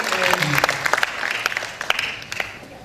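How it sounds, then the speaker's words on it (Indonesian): Lively applause breaks out in a meeting hall at an anniversary gathering celebrating Indonesia, dense clapping with distinct sharp claps poking through, near and loud, slowly thinning toward the end. "Tepuk tangan untuk Indonesia."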